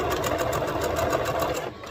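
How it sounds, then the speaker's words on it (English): A sewing machine runs a steady zigzag stitch over elastic for a daisy top, a fast, even mechanical patter up close that slows and stops at the end. "you're literally just gonna zigzag stitch over that elastic"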